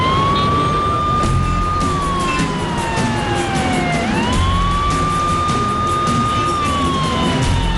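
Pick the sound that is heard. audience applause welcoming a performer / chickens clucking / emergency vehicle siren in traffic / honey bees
emergency vehicle siren in traffic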